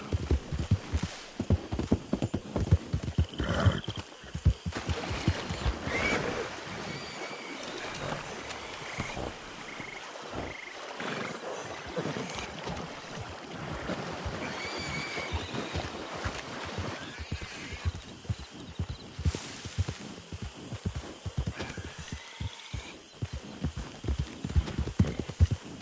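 Horse hooves clip-clop steadily on a trail in the video game Red Dead Redemption 2, a continuous rhythmic trotting close by, with faint ambient croaks and water sounds around and a rider occasionally speaking.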